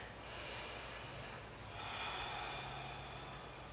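Two slow, soft breaths taken close up during a stretch, each a long airy hiss through the nose, alone and quiet.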